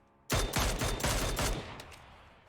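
Gunfire in a battle royale shooter game: a sharp burst of about five rapid shots fired close, followed by a couple of fainter trailing cracks, with no talking.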